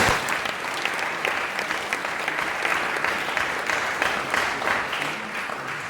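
A church congregation claps loudly and continuously throughout, a dense steady wash of applause with no pauses.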